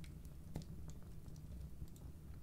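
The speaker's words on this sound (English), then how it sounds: "And I'll be typing this as we go." Faint typing on a computer keyboard: a sparse run of soft, light clicks over a low, steady room hum, with no talking.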